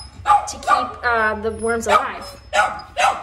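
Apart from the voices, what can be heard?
dog barking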